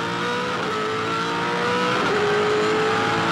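V8 Supercars racing at Hidden Valley Raceway in 2007, with a loud, sustained engine roar from race cars powering out of a corner, the pitch climbing steadily as they accelerate.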